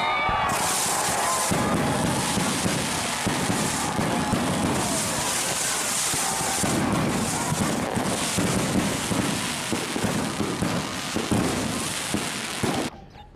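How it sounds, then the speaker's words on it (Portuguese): Fireworks celebration in the Crash Bandicoot video game, a dense crackling, popping burst of explosions that fills the scene loudly and continuously before cutting off near the end. "Solta os rojões. Solta os fogos aí."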